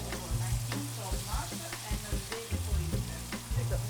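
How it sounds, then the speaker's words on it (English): Flour-dipped sardines fry in oil for Sicilian pasta with sardines, a steady close sizzle broken by repeated soft knocks and stirring clatters from the pan throughout, with no voices. "Rosetta dips the remaining sardines in flour and fries them"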